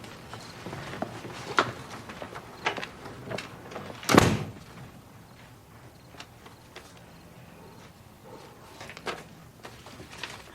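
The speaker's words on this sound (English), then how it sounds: "I thought I heard the front door." A front door in a house opens with one sharp knock-like clunk amid scattered faint clicks, footsteps and shuffling in a quiet room, with no one talking.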